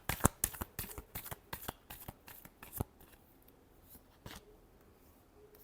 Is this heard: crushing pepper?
no